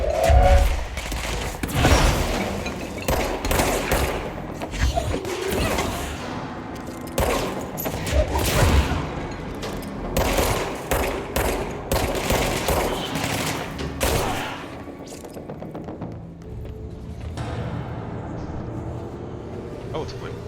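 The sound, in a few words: gunfire and grenade explosions in video game Control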